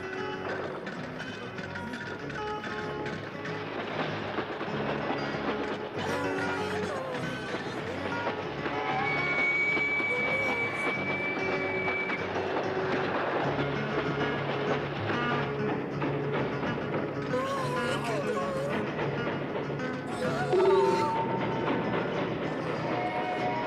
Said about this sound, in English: We gotta get out of the way of that train.